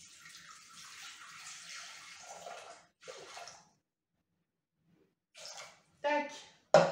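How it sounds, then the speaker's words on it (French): Water, 300 g, poured into a Thermomix bowl while cooking a quick seafood choucroute: a soft steady splashing pour, a second short pour, then a pause before brief clatters and short bursts of sound. "Alors, dans le bol, on va mettre 300 g d'eau."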